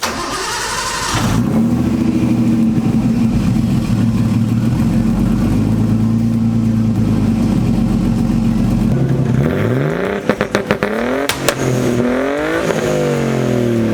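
A Nissan 240SX with a big-turbo RB20DET engine cranks and catches, then settles into a steady, loud idle close by before several sharp revs blip up and fall back near the end.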